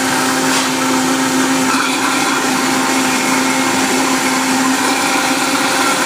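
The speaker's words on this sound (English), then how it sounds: "we want to make sure that all those spices, they all get ground up so they're no longer like hard" A blender whirs loud and steady up close, grinding spices into a smooth sour orange vinaigrette, its motor holding one unbroken drone throughout.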